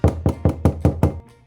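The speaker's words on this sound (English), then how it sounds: "You want to knock on the door for me?" Six firm, evenly spaced knocks on a door sound in quick succession, loud and close, then stop, leaving a brief quiet.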